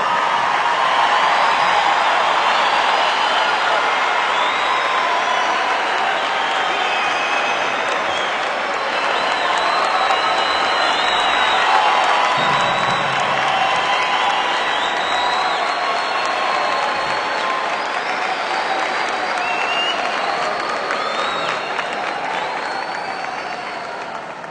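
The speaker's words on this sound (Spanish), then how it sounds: "vamos a darle finalmente la bienvenida ante todos ustedes con un gran aplauso al alcalde mayor de Bogotá" A large crowd applauds to welcome Gustavo Petro, mayor of Bogotá, a loud, continuous wash of clapping with some cheering that stays steady and sustained throughout and eases slightly near the end.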